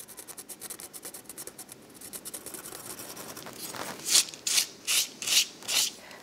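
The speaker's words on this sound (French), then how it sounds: "donc je vais venir, toujours avec le même outil, gratter à l'intérieur." A tool scratches a scratch-art Christmas card, quick soft scraping strokes at first, then a run of louder, separate rasping scratches near the end.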